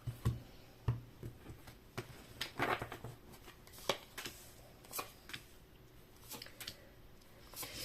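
Tarot cards are shuffled by hand nearby, giving quiet, irregular soft slaps and slides with a faint background hum and no talking.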